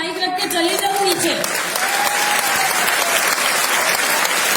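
Audience applause at a success-story gathering, loud continuous clapping from a crowd with a voice and cheering calls mixed in.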